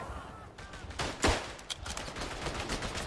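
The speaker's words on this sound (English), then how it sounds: "Mr. Machine Gun. Machine Gewehr. Please stop." A machine gun rattles in Verdun, the World War I shooter, with rapid bursts and one heavy nearby blast rising over a busy battlefield din.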